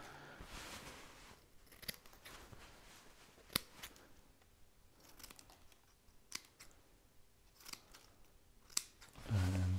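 Cheap scissors snipping through foliage stems and leaves, giving sharp, isolated clicks every second or so over faint rustling, close and quiet.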